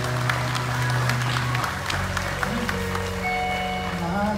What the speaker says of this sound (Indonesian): Berikan tepuk tangan kepada Yesus.